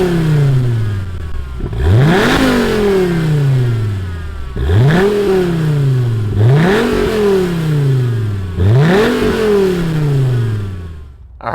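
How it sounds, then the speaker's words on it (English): A 2008 Dodge Viper convertible's V10 engine is revved hard four times, each rev rising sharply and then sliding back down toward idle. The blips are loud and close, with no voices. "let's fire up this V10 and see what it sounds like"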